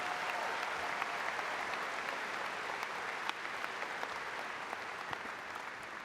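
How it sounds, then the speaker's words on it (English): Applause from a large commencement audience honoring new Doctors of Education at a university spring ceremony, a continuous wash of clapping heard from a distance, steady and moderately quiet for the whole stretch. "Can we have another round of applause for our new Doctors of Education?"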